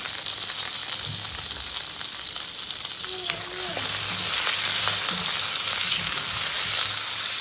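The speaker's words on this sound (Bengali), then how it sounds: "তেলটা গরম হয়ে গেছে, আমি সর্বপ্রথমে বেগুন কটাকে ভেজে নেব" Eggplant pieces, lightly salted and dusted with turmeric, fry in hot oil in a pan, giving a steady, close, continuous sizzle for the whole stretch with no voice over it.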